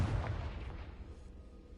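A Confringo blasting spell explodes in the Hogwarts Legacy video game, a low, booming blast that rumbles and fades over under two seconds.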